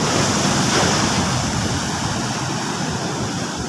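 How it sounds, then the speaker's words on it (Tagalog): Gentle sea waves roll in after Typhoon Kristine, a steady, close wash of surf with continuous wind-blown hiss and no voices. "banayag ang alon, hindi gaano malaki"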